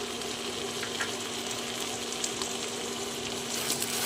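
Mutton keema fries steadily with turmeric, chili powder and chopped tomato, giving a continuous close sizzle with faint crackles throughout and no voices.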